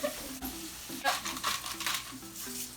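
Lamb chops and carrots sizzle and crackle in a preheated pan, with soft stirring scrapes and a quiet background hum.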